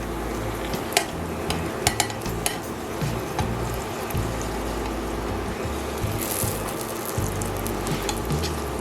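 Tortillas frying in grease in a skillet for street tacos, a continuous crackling sizzle close by, broken by scattered clinks and scrapes of a utensil against the pan.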